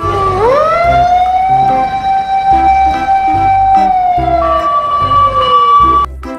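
A toy fire truck's electronic siren wails loud and close, a steady rising-and-falling tone over a pulsing beat that cuts off abruptly near the end.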